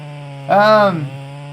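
A chainsaw cutting a yard tree idles steadily, then revs up sharply for about half a second before dropping back to idle. It sounds close and loud.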